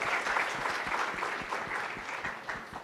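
An audience at a business summit on workspace efficiency gives a panel a warm round of applause, many hands clapping steadily at moderate volume, with no talking over it.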